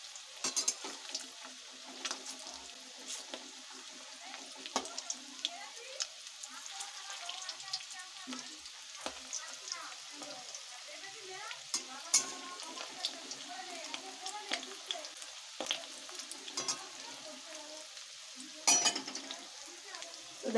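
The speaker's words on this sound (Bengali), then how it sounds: "তো দেখো ফিশ বলগুলো আমার ভাজা হচ্ছে এখানে।" Fish balls frying in oil, a soft, uneven sizzle with scattered pops and crackles, heard close over about twenty seconds.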